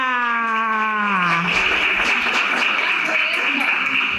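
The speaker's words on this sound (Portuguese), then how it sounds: "uma salva de palmas para a Dona Maria" Audience applause for Dona Maria, an elderly woman and athlete, at a health-week talk on healthy ageing, starting after a speaker's sustained voiced phrase and filling the room as steady, dense clapping.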